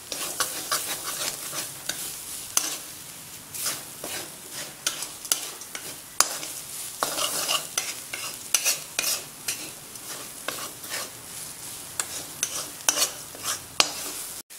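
Spice masala for a beef dry roast frying in a pan on low flame, stirred steadily with a spoon; continuous close sizzle broken by frequent scraping strokes against the pan, with no talking.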